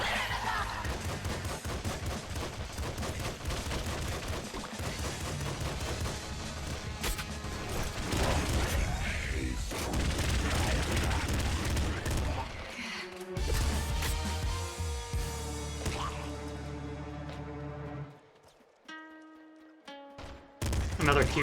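Rapid gunfire fills the top-down shooter Nuclear Throne, a dense continuous barrage of shots and impacts over game sound that thins and drops away near the end.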